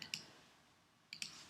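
Computer keystrokes during a virtual classroom training session, a few quiet separate clicks near the start and a short cluster near the end, with near-silence between them.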